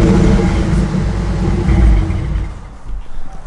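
A Ford Lightning pickup engine runs at a steady, loud, deep idle close by, with a slight dip in intensity toward the end.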